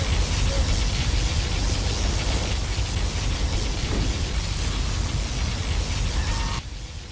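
A particle cannon blast in the game Command & Conquer Generals makes a loud, sustained roaring wash of noise with a deep rumble that holds steady for several seconds before dropping off at the end.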